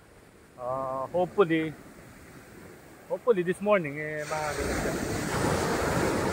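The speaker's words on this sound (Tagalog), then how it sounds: "Medyo hihina na yung alon." Surf at La Serrano beachfront in Morong, Bataan, where rough waves break on the shore: someone talks first, then a steady, loud wash of breaking waves and wind fills the last two seconds.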